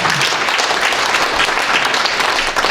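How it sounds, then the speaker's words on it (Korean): An audience at a forum applauds a guest who stands, producing sustained, even clapping that fills the room at close range for the whole stretch with no voices over it. "박수 크게 한번 보내주세요"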